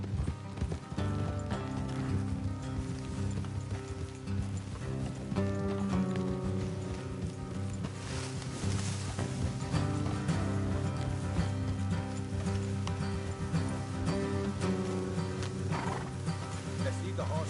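Horse hooves clop steadily on a hard road in Red Dead Redemption 2, beneath a dense, continuous wash of music and ambient game noise.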